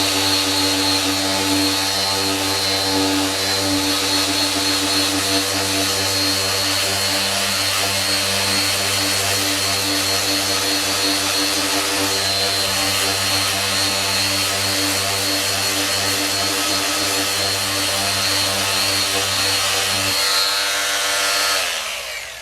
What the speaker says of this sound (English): I can use the Porter cable sander from this point on.